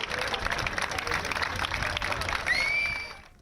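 A dense crowd lines the streets of Paris as the Olympic torch passes, producing continuous applause and cheering with a distant roar, and a high whistle rising near the end.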